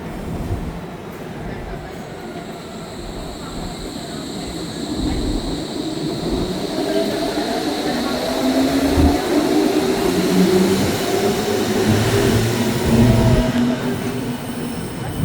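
A train passes near the Berlin Wall site in Berlin, its rumble and rolling rail noise swelling steadily and growing louder over roughly fifteen seconds, with faint wheel squeal.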